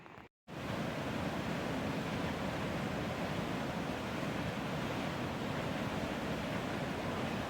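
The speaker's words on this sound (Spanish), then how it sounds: "Cascada Los Alerces." Los Alerces waterfall pours down as a steady, broadband roar after a brief cut at the start, constant and fairly distant, with no voices.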